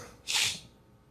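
One short, breathy cough bursts out close to the microphone during a devotional discourse at a Vaishnav temple in New York, then quiet room tone returns.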